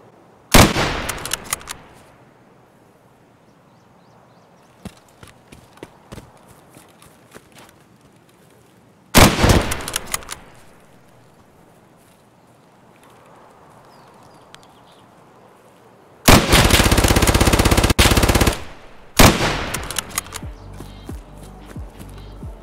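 Gunfire in Escape From Tarkov comes in loud, sharp bursts, with one sustained volley of rapid automatic fire, separated by quieter stretches of footsteps and movement.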